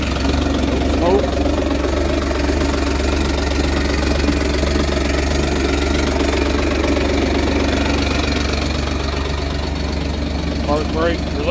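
A Kawasaki Mule Pro DXT LE EPS utility vehicle engine idles steadily just after starting, a continuous low rumble held at an even level throughout.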